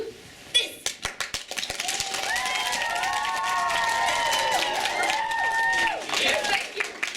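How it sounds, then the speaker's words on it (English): School audience breaking into enthusiastic cheering and shouting, a few sharp claps first and then a sustained wave of high children's screams and cheers mixed with clapping, loud and close. "we need you to cheer and shout and clap enthusiastically"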